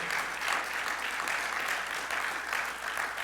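A church congregation gives steady applause of praise to the Lord after a prayer, with dense, even clapping at moderate distance and no break.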